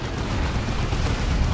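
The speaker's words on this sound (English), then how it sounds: "That's just a smoke shell from the artillery spotter fellas." An artillery smoke shell lands in Dawn of War 2, a dull, rumbling burst with a diffuse hiss that fills the short moment at steady loudness.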